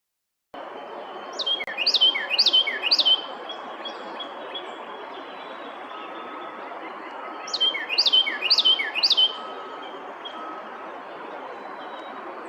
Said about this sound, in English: Both the Carolina Chickadee and Carolina Wren were singing nearby.